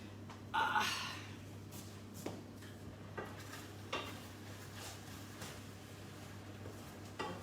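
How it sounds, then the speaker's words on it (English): A spoon stirs milk in a dish for a vegetable pie glaze, giving a few soft scrapes and taps spread across the clip against a quiet kitchen hum. "I'll just stir this."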